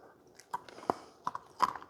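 Soft crunchy ice being chewed, several sharp close crunches spaced irregularly against a quiet background.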